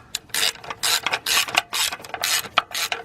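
A ratchet wrench tightens a bolt on the 5.3 engine of a 2006 GMC Envoy XL Denali, giving loud, close bursts of rapid clicking in repeated strokes with short gaps between pulls.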